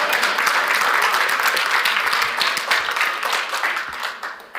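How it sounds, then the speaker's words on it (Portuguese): Sustained applause from a church congregation during a worship service, a dense, steady wash of many hands clapping that stays loud throughout and eases slightly toward the end. "Eu pensei que você ia aplaudir agora"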